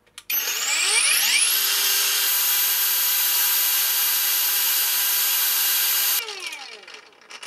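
A Makita angle grinder with a worn-down cutting disc runs up to speed and holds a loud, steady high-pitched whine, then spins down at the end. No one speaks.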